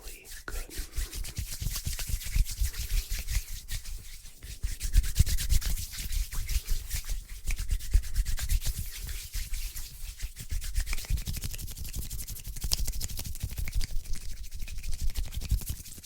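Hands rubbing palm against palm in a close, intimate ASMR setting, a steady dry swishing friction that continues in waves across the whole stretch with small rhythmic surges, alone without talk.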